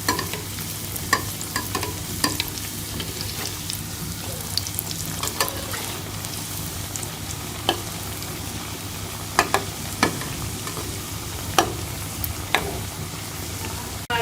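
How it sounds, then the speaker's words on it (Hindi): Samosas deep-frying in hot cooking oil give a steady, dense sizzle and bubbling that runs throughout, with occasional sharper pops and crackles rising above the continuous hiss. "अब हम इसमें समोसे फ्राई कर लेंगे। समोसे डाल के हम फ्राई कर लेंगे समोसों को।"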